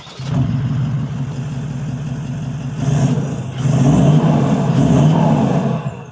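A Toyota Land Cruiser 76 series fitted with a 3-inch stainless steel exhaust runs steadily, the engine note swelling twice as it revs up near the microphone and holding a loud, throaty rumble to the end.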